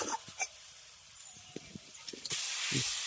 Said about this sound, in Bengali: যে মশলাটা জলের মধ্যে গুলে রেখেছিলাম সেটা দিয়ে দেবো মশলাটাকে দু মিনিট একটু ভালো করে কষিয়ে নেবো